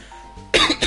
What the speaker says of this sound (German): Darum erstmal husten.